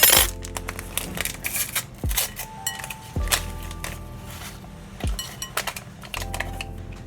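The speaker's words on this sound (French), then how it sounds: "je vais d'abord du coup mélanger la farine avec du coup la levure" Flour and baking powder being mixed in a bowl for a banana and grated coconut cake: a series of sharp clinks and taps of utensil against the bowl, with soft scraping between them, close and without talk.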